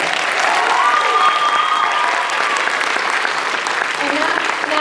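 An audience gives ten singers an enormous round of applause after a vocal group's performance, loud continuous clapping with whoops and a faint voice or two mixed in, easing slightly toward the end.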